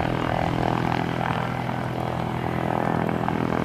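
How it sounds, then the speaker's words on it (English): A propeller airplane landing at Aurora Municipal Airport makes a steady, loud engine drone and roar that holds throughout without breaks, with no talking. "I got that one airplane landing."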